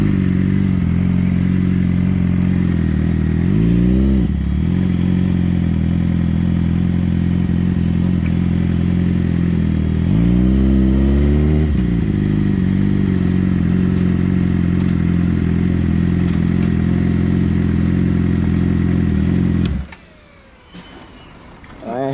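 Loud, close Suzuki motorcycle engine at a motorsports shop, holding a steady droning idle with two quick throttle blips, then cutting off near the end into a brief quieter clatter.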